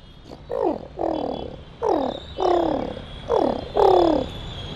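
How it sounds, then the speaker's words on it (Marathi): Pigeon cooing nearby: six low, throaty swooping phrases in a steady rhythm over a soft, constant background hiss. "आणि कबूतर"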